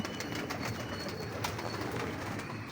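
Pigeons at a Lahore bird keeper's loft coo steadily amid a dense, continuous bed of chirps and flock noise, fairly loud and close throughout with no talk.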